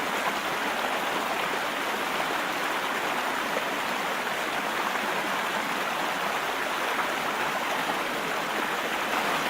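Steady, full rush of fast-running fresh river water in the Burgos countryside, a close, unbroken broadband roar with no other sounds over it.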